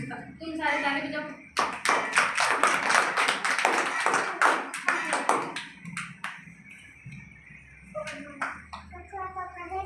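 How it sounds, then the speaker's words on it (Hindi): A group of children claps hands in a burst of quick, sharp, irregular claps at close range, thinning into scattered claps later, with children's voices and an adult talking in between. "तुम सारे ताली बजाओ।"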